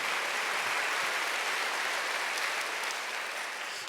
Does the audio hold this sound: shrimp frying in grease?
no